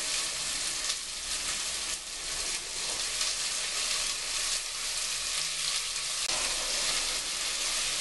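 Onions fry in olive oil in a pan, making a dense, even sizzle that crackles steadily up close. Occasional shifts in the sound suggest the pan being stirred or shaken, and no one speaks.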